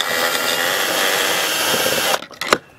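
Power drill backing screws out of an outlet cover on an RV exterior, a steady close whir for about two seconds, then stopping with a few short bursts and clicks.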